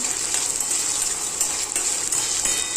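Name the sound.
onion frying in pan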